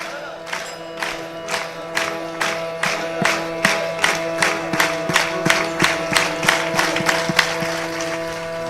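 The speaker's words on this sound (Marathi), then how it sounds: "फक्त बसलेली मंडळी टाळी वाजवतील आणि विठ्ठल विठ्ठल म्हणणार आहेत" A seated devotional gathering at an Akhand Harinam Saptah in Alandi claps in steady unison while chanting Vitthal, the sharp rhythmic claps evenly spaced and growing firmer over a sustained droning chant.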